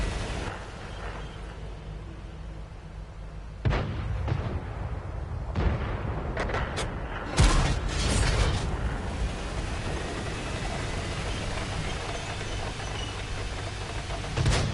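Tank cannon shots in the World of Tanks video game, several heavy booming blasts spaced seconds apart over a constant rumbling engine and battle ambience.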